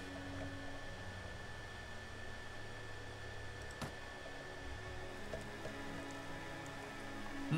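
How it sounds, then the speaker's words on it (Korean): Rain falling in the video game Mount & Blade Warband, a steady, faint hiss of rainfall with a constant low hum underneath, continuous throughout and without talk. "비가 오네요."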